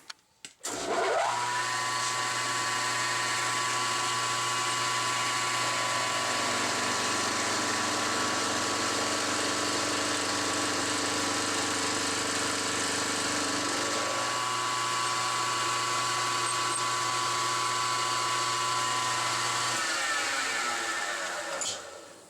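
A machine tool cuts a flat onto a steel cotter bolt, a loud steady whine with a sharp tonal ring that runs for about twenty seconds, shifting pitch midway, then winds down at the end; no talking.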